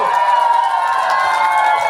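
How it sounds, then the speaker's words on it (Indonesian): Audience at a provincial elementary school solo vocal competition applauds and cheers for contestant number one, a dense, steady wash of crowd noise throughout. "Tepuk tangan buat yang nomor 1"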